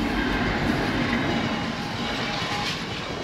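Freight train hauled by class 66 locomotives 66503 and 60099 rumbling past at Hykeham, a loud, steady roar of wheels and engines close by with a faint whine overhead, continuous throughout.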